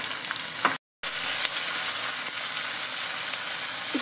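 Onions fry for a brinjal curry in a pan, giving a dense, even sizzle that runs nearly throughout, briefly cut to silence once, then steady again with a faint scrape near the end.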